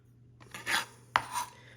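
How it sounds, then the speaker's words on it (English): A kitchen knife chopping garlic cloves on a cutting board, two quick close strokes with a sharp tap between them, faint room hum underneath. "It's a lot quicker just to do it with the knife."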